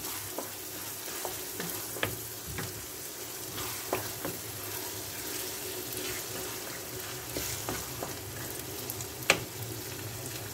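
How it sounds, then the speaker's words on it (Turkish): Rice being stirred in a pot on the stove after warm water is added, with a steady sizzling bubble and scattered scraping clinks of the spoon against the pot, close and continuous. "Pirinciyi ekledikten sonra şöyle bir karıştıralım."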